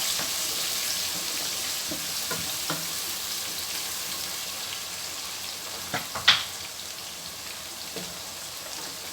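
A pot of stew with onion and a pinch of salt simmers with a steady soft sizzle as a spoon stirs it, with a few faint scrapes and one brief sharper clink near the end.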